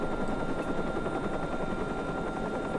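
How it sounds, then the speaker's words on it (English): A helicopter in the video game Watch Dogs flies steadily, its rotor throb a loud, continuous thrum with no speech. "Chopper, go back."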